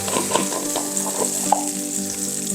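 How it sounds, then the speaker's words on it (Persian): Ten grams of butter sizzles and crackles in a frying pan as the base for a pomegranate sauce, a close, steady fizz with scattered pops and occasional stirring clicks. "برای درست کردن سس انارمون 10 گرم کره ریختم داخل تابه"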